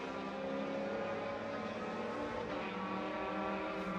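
A BMW race car in a 12-hour endurance race at the Charlotte Roval, its engine droning loudly and steadily as it passes on the track, with a faint swell toward the end.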